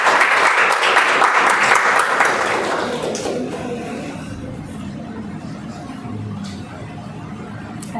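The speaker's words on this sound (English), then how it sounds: "Applause must go on, everybody." Audience applause at a meeting, dense clapping strongest at the start and fading by about three seconds into quieter room murmur and faint background noise.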